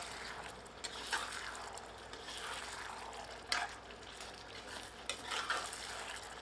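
Tamarind paste is stirred through a simmering chicken curry in a pot, giving soft, steady scraping and wet sloshing with a few louder strokes, close and fairly quiet, with no talking.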